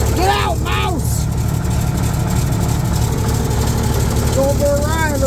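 An old bulldozer engine rumbles at a low, steady idle, close and loud, with a voice breaking in briefly at the start and end.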